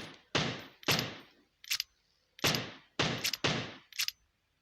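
Gunfire in the PUBG Mobile game, six loud, close bursts of shots at uneven intervals, each a sharp crack with a short decaying tail, separated by brief silences.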